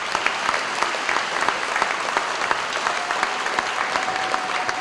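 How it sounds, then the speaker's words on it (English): Audience applause fills a ribbon cutting ceremony for an elementary school, a steady dense wash of many hands clapping at moderate loudness with a few sharper individual claps standing out, continuing without talk. "If we could give them a round of applause."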